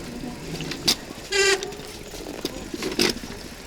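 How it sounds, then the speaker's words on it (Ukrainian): Bicycle brakes give sharp, high squeals in short bursts, with one longer squeak in the middle and two quick ones around it, over outdoor riding noise. "Це скріплять мої тормоза, дуже добре працює замість дзвіночка"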